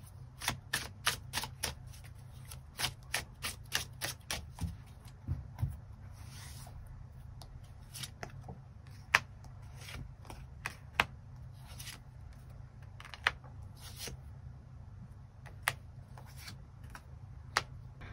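Tarot cards being shuffled and drawn, heard as quick bursts of sharp papery clicks that thin out into scattered single snaps over a low, steady background hum.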